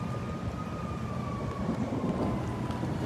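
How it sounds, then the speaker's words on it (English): A distant emergency vehicle siren wails faintly above a steady roar of traffic and wind during severe weather, its tone slowly sliding downward. "We hear all sorts of sirens."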